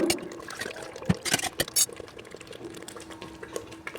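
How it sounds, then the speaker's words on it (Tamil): Ground masala paste is poured into a pan for goat curry, giving a soft wet slop alongside a few close metallic clinks of utensil against pan. "அதுக்கப்புறம் அந்த அரைச்சி வச்சுருக்கிற மசாலா ஊற்றிக்கணும்"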